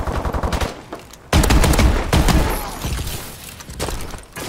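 Rapid automatic gunfire in Call of Duty Advanced Warfare, a fast burst of close shots followed after a pause by a loud, heavy volley and a string of further shots that gradually thin out.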